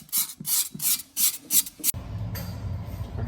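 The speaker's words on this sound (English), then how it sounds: "Just a little bit of sand cloth." Sand cloth scrubs against an old Gerber toilet part in five or six quick, rasping strokes, each one close and crisp, followed by a softer, steady rubbing.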